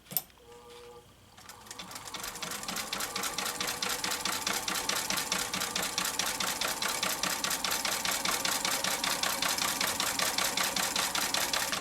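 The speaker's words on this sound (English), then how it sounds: "And then we'll turn it over and stitch on the line." A sewing machine stitches a crazy patch quilt block, starting with a brief clack and slow first stitches, then running fast and steady with an even, rapid mechanical chatter close by, without talk.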